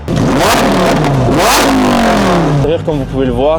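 A Lamborghini Huracán STO engine revs loudly with rising and falling pitch sweeps, partly overlapped by someone speaking French near the start.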